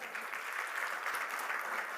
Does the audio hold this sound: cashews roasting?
no